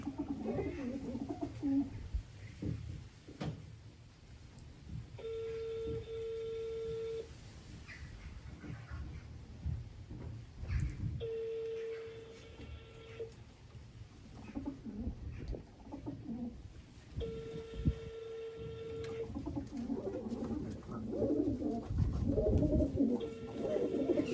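Repeated coos from a stray homing pigeon, three drawn-out calls spaced several seconds apart, over a murky background of low rumbling noise.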